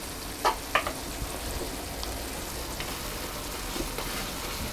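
Apple filling with cinnamon cooks in a pan under a steady soft sizzle, with a few brief spoon scrapes as it is stirred, close by and without talk.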